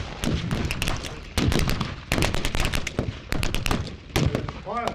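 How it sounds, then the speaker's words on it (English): Rapid, loud bursts of gunfire crack through a WWII battle reenactment, irregular volleys and single shots overlapping at close range, with voices faintly underneath. "Firefight now."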